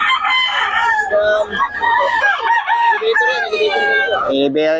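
A Golden Boy gamefowl rooster crows loudly and close, a few long strained cock-a-doodle calls mixed with clucking, with voices faintly present.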